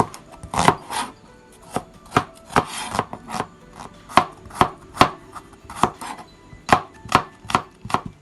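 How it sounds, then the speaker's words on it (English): A knife slicing through an onion on a cutting board, a long series of sharp, close chops in an uneven rhythm, sometimes clustered, with no talking. "For this onion, I'm going to just slice this"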